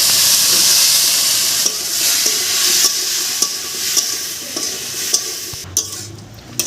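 Cauliflower florets stir-fried with onion and spices in a pan give a steady, close sizzle with repeated scraping stirs and a few sharp clinks toward the end.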